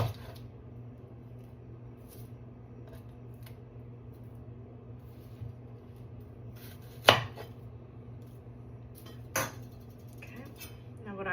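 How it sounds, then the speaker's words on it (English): Knife cutting an onion in half on a cutting board, two sharp chopping strikes with a few lighter taps against a steady low kitchen hum. "Take an onion, cut this guy in half."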